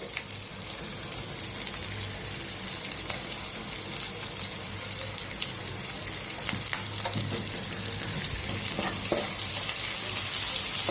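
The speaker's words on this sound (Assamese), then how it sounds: "এতিয়া প্ৰথমে মই পিঁয়াজখিনি ভাজি ল'ম" Onions frying in hot oil in a wok, with black cumin already in the oil, give a steady, close sizzle and crackle throughout, with occasional stirring scrapes and a brighter hiss swelling near the end.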